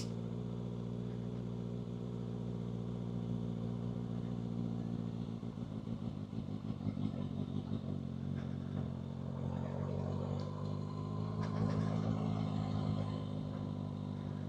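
A motorcycle rolling through a practice lap in a parking lot, its engine humming steadily at moderate distance and rising somewhat in the second half, with some light clatter.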